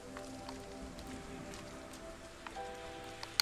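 Soft, steady rain falls in the video game RiME, a faint constant patter under low ambient game tones, with a few sharper drips near the end.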